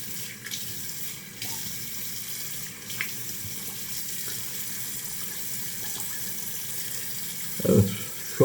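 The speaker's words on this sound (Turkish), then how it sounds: "Şöyle bir yıkayalım yüzümüzü." A tap runs in a sink while the face is washed after a shave with a straight razor. The water makes a steady, close, hissing stream throughout, with a few brief splashes and knocks near the end.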